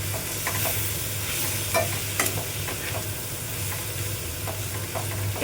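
Freshwater snails dropped into a hot pan sizzle steadily while a spoon stirs them, giving repeated scraping knocks over a constant low hum; close and fairly loud, with no speech.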